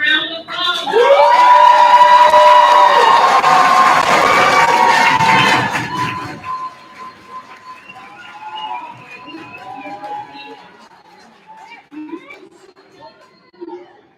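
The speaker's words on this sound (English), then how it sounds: "Give them a round of applause." A graduation audience bursts into loud cheering, whoops and shouts for a few seconds, then the noise fades into scattered cries and murmuring voices in a large hall.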